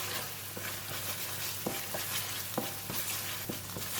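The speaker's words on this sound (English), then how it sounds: "we're going to stir fry it until the ingredients from the red curry paste has released the aroma and it dry up a little bit" Pork belly stir-frying with red curry paste in a hot pan, a steady close sizzle broken by scattered scraping stir strokes, with no voices.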